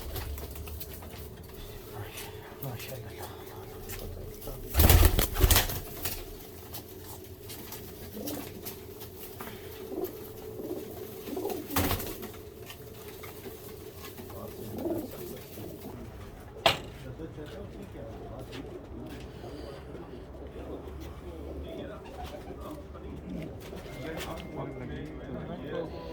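Soft pigeon coos drift in intermittently under people talking nearby, with a few sharp knocks and rustles along the way.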